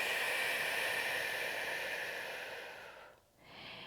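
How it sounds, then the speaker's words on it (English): Someone takes a deep breath in through the nose, then exhales through the mouth. The breath is a loud, airy, sustained rush that fades, followed by a brief pause and the start of another breath. "breathe deeply in through your nose and then exhale through your mouth"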